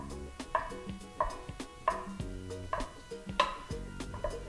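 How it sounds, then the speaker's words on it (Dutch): A knife cuts tempeh into strips on a board, with crisp, evenly spaced chops about every two-thirds of a second, close and clear, with no talking. "Zo, deze blijven in reepjes snijden."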